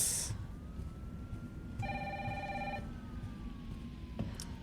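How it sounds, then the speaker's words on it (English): A telephone rings once in a clear electronic burst lasting about a second, rising over a quiet background hum. "Okay, that phone is really annoying"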